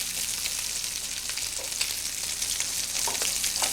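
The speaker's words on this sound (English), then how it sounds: "We heat some oil and now we put the meat in the pan." Meat fries in hot oil in a pan, a loud, close, continuous sizzle with crackling spits and occasional pops throughout, no voices.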